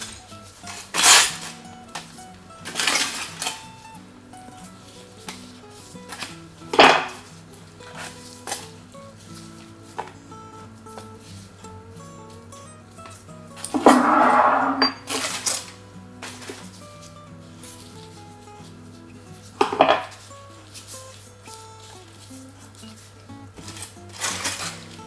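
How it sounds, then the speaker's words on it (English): 500 grams of beetroot being peeled and chopped in a kitchen, with scattered knife knocks and thuds against a board and a few louder clattering bursts over a steady background hum. "So I've got 500 grams of beetroot here that I'm just going to peel and chop."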